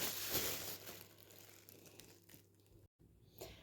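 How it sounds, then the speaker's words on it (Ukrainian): Soft plastic crinkling as dough is pushed into a small plastic bag, rustling steadily at close range for a few seconds, with a brief pause near the end before a final crinkle. "От, все, тісто в пакетик."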